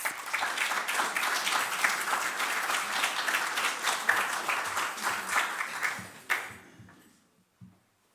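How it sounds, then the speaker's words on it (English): An audience at a summer school lecture in a chapel claps to welcome a speaker, dense steady applause that fades out near the end, leaving a couple of faint isolated claps. "would you give a round of applause and a welcome to Mary, please"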